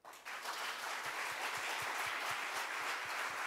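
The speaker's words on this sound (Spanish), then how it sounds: "¿Merecerá un aplauso?" A church congregation breaks into sustained applause, a dense, even wash of clapping from many people that starts abruptly and holds steady.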